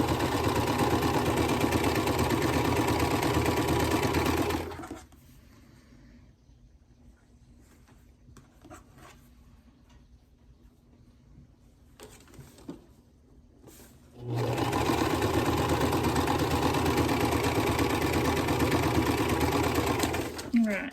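A sewing machine stitches quilt pieces with a fast, steady mechanical whir, running in two long bursts separated by a quiet pause filled with faint handling noises.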